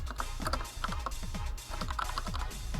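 Fingers type briskly on a computer keyboard fitted with unusual keycaps, making close, irregular clacking keystrokes in quick bursts with no voice over them.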